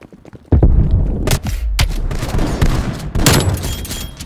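Gunfire in the video game Call of Duty: Black Ops Cold War, close and loud, a sudden burst followed by rapid repeated shots and heavy thumps in quick succession.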